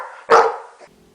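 One sharp, loud bark from a dog rings out close by, followed by a briefer softer yelp and a faint trailing whine, over a quiet tonal background.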